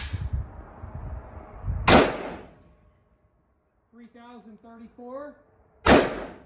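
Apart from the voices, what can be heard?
rifle gunshots firing dented Winchester .223 Rem rounds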